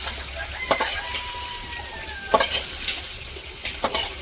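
Bitter gourd and potato frying in a pan, sizzling loudly and close, with three sharp spatula scrapes against the pan breaking through the steady hiss.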